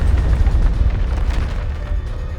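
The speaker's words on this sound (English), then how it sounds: "The explosions come one after another, too large and too frequent for an artillery barrage." Explosions in the Reverse 1999 video game, heard as a loud, continuous deep rumbling boom with a dense low roar that barely lets up.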